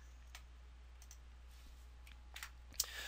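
Sparse keyboard clicks of someone typing a name into a web form, faint individual keystrokes with gaps, then a quick cluster of taps near the end over a low steady hum.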